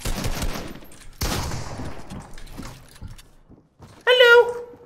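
Rapid bursts of gunfire in a Fortnite box fight, loud repeated shots early on, then a sharp burst and a final tonal game sound, with someone talking over the action.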